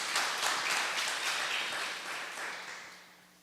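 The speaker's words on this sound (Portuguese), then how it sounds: "Você pode aplaudir Jesus." A church congregation applauds during a Christmas sermon, a broad wash of clapping from a roomful of people that fades out over a few seconds.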